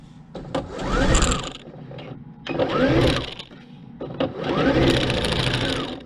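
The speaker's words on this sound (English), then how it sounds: "I'm going to stitch down the sides of it." A sewing machine stitching down the sides of a skort, three loud whirring runs of a few seconds each, close by, separated by short pauses with no talking.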